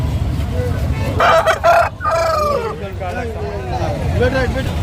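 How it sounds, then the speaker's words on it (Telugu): Roosters and hens at a busy Sunday rooster market in Nellore crow loudly and close, with clucking and crowd babble and talk around them. "పెట్ట ఒకటి ఉంది ఇక్కడ పూల పెట్ట అది కూర్చొని ఉంది"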